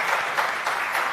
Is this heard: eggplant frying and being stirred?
no